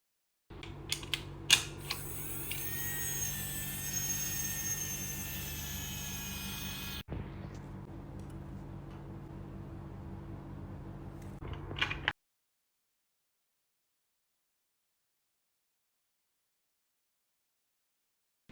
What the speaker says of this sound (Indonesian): motor berputar secara lancar karena suplai daya dari listrik rumah mencukupi kebutuhan torsi motor